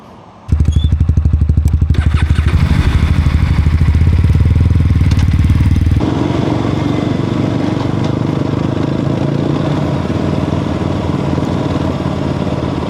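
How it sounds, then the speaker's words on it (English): An Aprilia RS457 motorcycle engine starts up and thumps with a loud, rapid, pulsing beat, rising in revs, then settles into a steady heavy drone while riding, close and without voices. "this is my Aprilia RS457"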